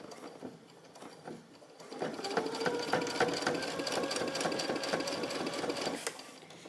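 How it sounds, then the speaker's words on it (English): A sewing machine top-stitches along the edge of a fat quarter fabric drawstring bag. A few slow stitches come first, then a steady, fast mechanical whir with rapid clicking runs close and clear without pause. "you're just gonna top stitch that very edge down"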